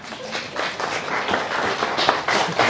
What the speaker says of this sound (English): Get a round of applause, please, for the mammies.